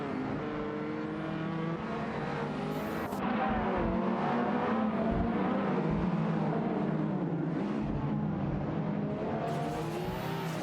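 Racing cars in a 2024 AI-driven race roar and rev continuously, engines whining up and down in pitch with layered passes and a brief tire squeal, loud and dense throughout with no talking.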